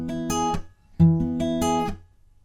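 Guitar plucking pattern on an E bar chord, two short picked phrases of clear, ringing notes played alone, separated by a brief gap and then fading out.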